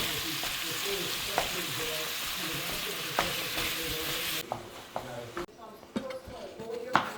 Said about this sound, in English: So throw your hamburger in there. And just brown